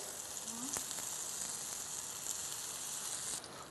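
Paneer tikka sizzling in butter on a grill pan, a steady close frying hiss throughout with a brief clink of a utensil early on.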